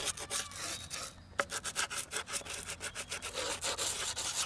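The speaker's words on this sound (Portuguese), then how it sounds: "E Angélica, pode lixar com força isso aí" A skateboard deck being sanded by hand, with close, steady, rhythmic rubbing strokes repeating back and forth at an even pace and no talking.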